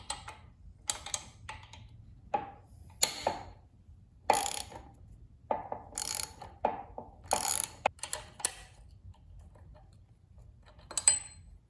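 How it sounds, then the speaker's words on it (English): Wrench work on a front wheel bolt of a 1996 Yamaha Virago XV750 motorcycle, giving a string of close, irregular metallic clicks and ratchety clanks spaced across the clip with quiet gaps between, no talking. "I'll remove this bolt with two 12mm wrenches."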